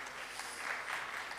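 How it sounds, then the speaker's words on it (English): A conference audience claps for its panelists at a policy dialogue session, with soft, steady applause that sounds somewhat distant and muffled and lasts a brief moment. "Please give a round of applause to our panelists."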